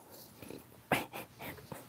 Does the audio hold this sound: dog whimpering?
yes